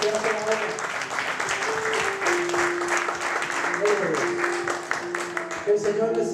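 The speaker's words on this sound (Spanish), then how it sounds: "Démosle un aplauso al Señor." A church congregation gives sustained applause in praise, a dense continuous wash of clapping that fills the whole stretch, with voices and some musical tones mixed underneath.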